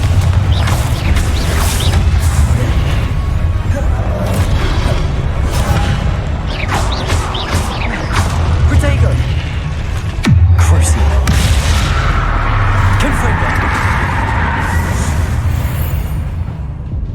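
Confringo blasting spell going off in Hogwarts Legacy, a dense, loud bed of booming impacts, whooshes and crashing debris with a sharp hit near the middle, mixed with game music and voices throughout.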